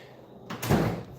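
A workshop drawer slides and knocks shut in a short burst of scraping and a dull thud, close and fairly loud, during a rebuild of a 1979 Yamaha XS250 motorcycle.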